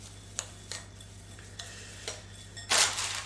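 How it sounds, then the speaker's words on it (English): A spoon taps and scrapes against a bowl while stirring a partly melted flapjack mixture, a few sharp clinks at irregular intervals, then a louder scraping swish near the end, over a low steady hum. "Give it all a good stir around"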